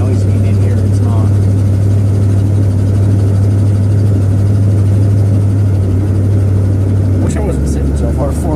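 A 1966 Ford Thunderbird engine idling, heard from inside the cabin as a loud, steady low hum and drone throughout, with a shift in tone near the end.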